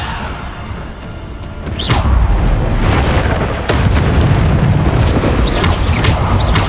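Spell blasts from Bombarda, Descendo and Depulsor in Hogwarts Legacy, heard as loud, dense bursts of booming impacts and whooshes layered into a continuous roar of magical combat.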